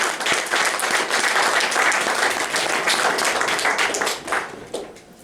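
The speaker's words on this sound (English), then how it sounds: "Give him a big round of applause." Loud, dense applause from a small club audience at Godfrey Daniels welcoming a performer, sustained hand clapping that holds steady then tapers off at the end.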